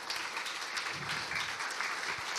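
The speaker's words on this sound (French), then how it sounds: "d'abord un énorme applaudissement pour le travail" Applause from a conference audience fills the whole stretch, a steady broadband wash of many hands clapping at moderate loudness with no talk over it.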